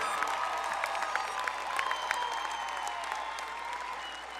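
An audience at a high school graduation ceremony gives its graduates a round of applause, with dense, sustained clapping from a large crowd that holds steady from start to finish.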